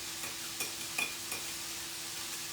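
A spoon stirs a pot of creamy chicken poblano chili, giving soft scraping clinks and light sizzling at close range, with no talking.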